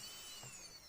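The electric motor of an RC Spitfire model plane spins with a faint, steady high-pitched whir during electronics setup, quiet and continuous with no speech.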